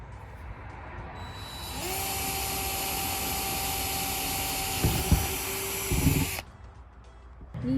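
A power drill whines up loudly and runs steadily for several seconds, its pitch dipping as it bites, then cuts off.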